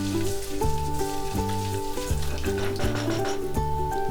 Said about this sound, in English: 2 black cardamom, 3-inch cinnamon stick, 2 bay leaves, 8 green cardamom, and fry this for few seconds.